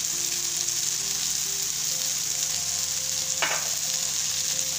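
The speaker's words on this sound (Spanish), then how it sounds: "Vamos a sofreír esto por un ratito a que se ablande un poquito el jitomate y la cebolla" Chopped tomato, green chili and onion sautéing in a pan, a continuous even sizzle close up with a brief scrape of a utensil partway through, no talking.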